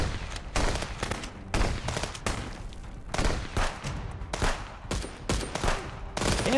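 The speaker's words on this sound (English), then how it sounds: "I'm shooting you in the high chest area." Rapid bursts of gunfire from the video game Wizard with a Gun, loud close volleys repeating in irregular clusters with brief gaps between them.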